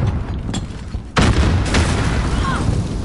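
Grenade blasts in Call of Duty Modern Warfare search and destroy: a sudden loud boom hits about a second in and leaves a rumbling roar, with fainter pops before it and gunfire-like bursts mixed into the noisy game sound.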